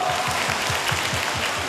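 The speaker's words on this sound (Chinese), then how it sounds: "掌声鼓励！" Applause fills a Taiwanese TV talk-show studio as a steady, bright wash of clapping, with a faint rhythmic low thumping running underneath.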